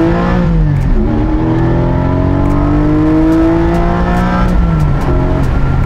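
A Porsche 718 Cayman GT4 at full throttle, its engine note climbing through rising revs with gear changes, loud and close from inside the car, sustained throughout.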